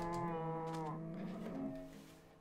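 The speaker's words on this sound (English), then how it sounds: "Come on, cow." A Minecraft cow gives one close, drawn-out moo, loud and alone, with a wavering pitch that fades at the end.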